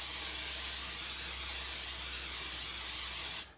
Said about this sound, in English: I'm gonna spray the pan with a little bit of spray and cook, which is olive oil